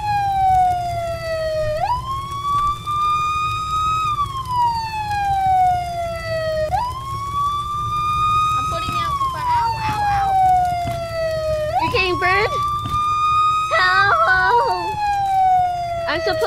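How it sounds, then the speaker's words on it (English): Fire truck siren in the game Brick Rigs wails loud and close in repeated rising-and-falling sweeps over a low engine rumble, with scattered horn-like bursts and some talk mixed in. "Oh, fire truck."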